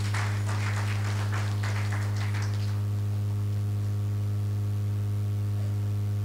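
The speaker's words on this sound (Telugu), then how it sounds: "ఆయన మంచి కష్టాలకు చప్పట్లు కొడదాం" Audience clapping together at a celebration festival event in Vizianagaram, a brief burst of applause for about three seconds that then stops, leaving a steady electrical hum.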